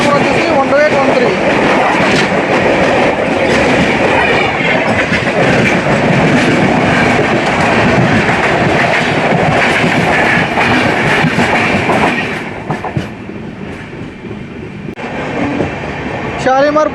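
The 12822 Dhauli Express on its Puri to Howrah run rumbles steadily from inside the train, with a rhythmic clickety-clack of wheels over rail joints that stays loud, then eases noticeably toward the end.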